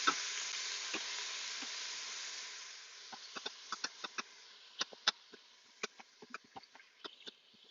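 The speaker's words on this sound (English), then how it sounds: "You can hear it sizzling, and then you just brown your meat exactly like you would if it were on the stove top." Ground meat browning in an Instant Pot gives a steady, soft sizzle and hiss that fades slightly, then gains scattered crackles and pops as it cooks, close by with no talk.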